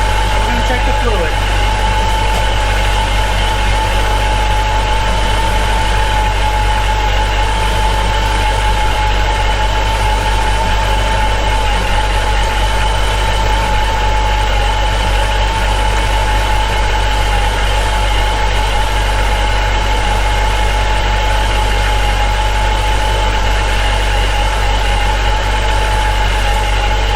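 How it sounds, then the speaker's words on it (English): A supercharged Chrysler 300 SRT8 sits at a warm idle, its steady low rumble and constant supercharger whine droning close and loud for the whole stretch while someone talks over it. "I hope you can hear me over the supercharger line."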